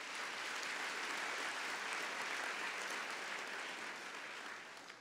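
A graduation ceremony audience applauding the CPUT choir, heard as a dense, steady wash of clapping from a large crowd that continues evenly and starts to taper off at the end.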